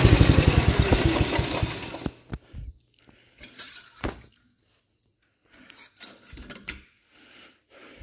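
A 1970 John Deere 110 lawn tractor engine sputters and runs with a rapid loud chugging for about two seconds, then cuts out, leaving scattered clanks, clicks and handling noises with quiet gaps.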